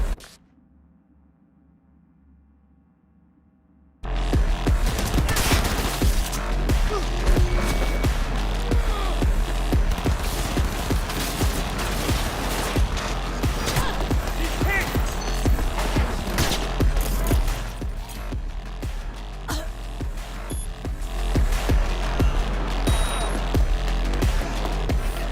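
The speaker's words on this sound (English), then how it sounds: "All units report. Opening fire." Video game battle as units open fire: after a few seconds of near silence, dense relentless gunfire erupts, rapid machine-gun bursts and overlapping shots with deep booms, loud and continuous for over twenty seconds.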